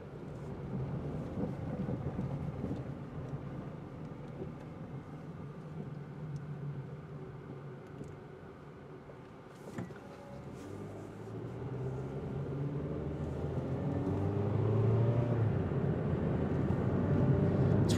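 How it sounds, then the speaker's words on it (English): A Honda car on a test drive after a transmission additive was added, its steady engine and road rumble droning continuously and building slightly toward the end, with no talking. "We're going to take it on a test drive and see if anything's changed."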